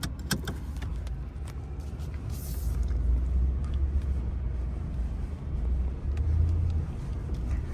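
A 3-ton pickup truck's engine revs and accelerates through sand, a steady low rumble building and holding loud and close throughout, with a brief light jangle near the start.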